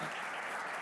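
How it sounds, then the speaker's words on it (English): Brief burst of audience applause for an airline CEO at a business club gathering, a dense even wash of clapping from a seated crowd, fairly quiet and with no talk. "maybe just a round of applause for Joanna"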